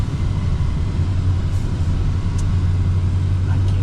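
A pickup truck on big tires drives out through blizzard snow, its engine a steady close low rumble with a constant hum throughout, no voices.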